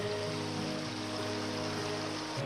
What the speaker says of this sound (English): Beautiful little stream.